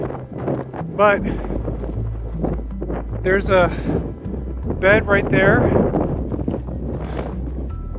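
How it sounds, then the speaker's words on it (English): Cold, gusty wind buffets the microphone with a steady low rumble while someone talks over it, up at obsidian beds. "Really cold and windy up here,"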